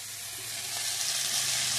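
Ground spices sauté in a pan, giving a continuous soft sizzle that holds steady and slightly brightens toward the end, close and moderately quiet with no talking.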